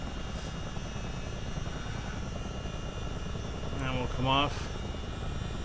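A CH-47 Chinook helicopter taxis in a flight simulator, giving a steady, droning rotor and engine hum throughout. Someone speaks briefly over it near the end.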